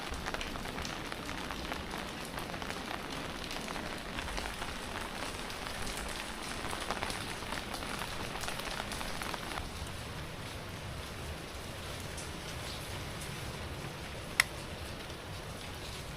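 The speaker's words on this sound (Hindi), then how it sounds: "इतनी ज़बरदस्त और ज़ोरों वाली बारिश हो रही है" Heavy, pounding rain falls around someone under an umbrella in an orchard, a dense, steady hiss that runs unbroken throughout, with one sharp tick near the end.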